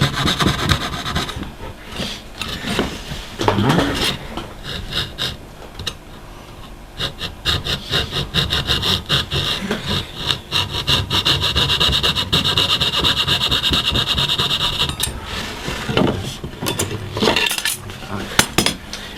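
Trimming the edges of a model ship's mast top platform with a hand tool, giving a steady close scraping and rasping that runs almost throughout, broken by short pauses and a few sharper knocks.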